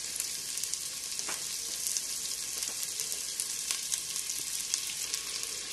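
Garlic, onion and thin rounds of calabresa sausage fry in a pan with a loud, continuous crackling sizzle, close up, broken by faint stirring clicks.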